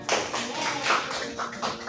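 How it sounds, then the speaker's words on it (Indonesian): A small classroom group in a micro-teaching chemistry lesson claps together in a quick rhythmic pattern of bursts, fairly close and moderate in volume, with voices mixed in. "Tepuk tangan bagi kita semua."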